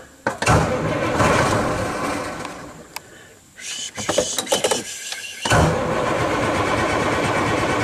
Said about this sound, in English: Hit the starter button.